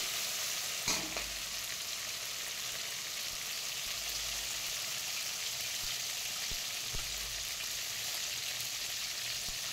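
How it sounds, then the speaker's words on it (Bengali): Fish pieces frying in oil hiss in a steady, dense sizzle close by, with one brief clatter early on and a few faint pops throughout, no voices present. "মিডিয়াম করে মাছগুলো ভালোভাবে ভেজে নেব"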